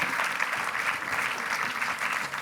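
An indoor audience applauding to welcome the first witness of an inquiry commission at a talk on AI, steady dense clapping from a crowd, fairly distant and without voices.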